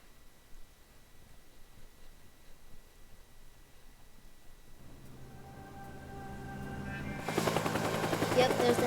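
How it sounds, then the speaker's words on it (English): Machine gun fire from a helicopter in the video game Teardown begins faintly and grows into loud, dense continuous fire, with rising engine noise underneath and no clear speech. "there's the helicopter's gonna try and murder me"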